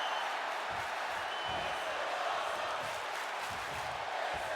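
A wrestling arena crowd roars steadily throughout a ladder match involving Macho Man, a dense continuous wash of cheering and noise with faint rhythmic low thumps beneath it.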